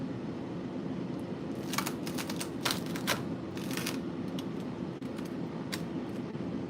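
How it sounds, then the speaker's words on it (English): A knife slices through crunchy, Capri-style pizza toast, giving a run of sharp crackling crunches in short bursts over a steady low background hum. "do you hear how crunchy that is?"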